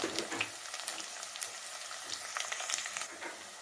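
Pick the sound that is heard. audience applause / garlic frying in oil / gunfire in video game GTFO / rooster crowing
garlic frying in oil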